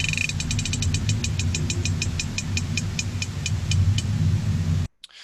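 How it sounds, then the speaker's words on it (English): An underwater recording from Sweden, once believed to be Soviet submarines, holds a rapid series of sharp clicking pulses that start close together and then spread out over a low rumble. It stops abruptly near the end. "Sweden kept recording some sound that they thought were from Soviet submarines."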